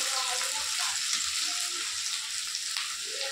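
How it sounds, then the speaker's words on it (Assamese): Onions frying in a pan with bay leaves, cloves, cardamom and cinnamon, a steady, close, broadband sizzle that holds evenly throughout with no talking over it. "এতিয়া পিঁয়াজ অলপ ভাজিম।"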